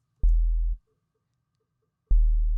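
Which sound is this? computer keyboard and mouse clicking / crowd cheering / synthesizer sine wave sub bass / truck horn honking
synthesizer sine wave sub bass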